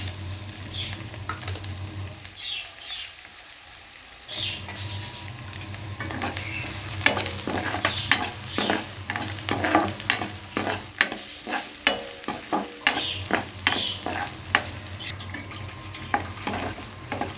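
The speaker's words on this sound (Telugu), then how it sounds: "ఇలా వేయించుకోవాలి" Sliced onion and green chilies sizzle in hot oil for a curry, with a steady fry hiss broken by repeated sharp scrapes and clinks of a spoon stirring the pan, fairly close.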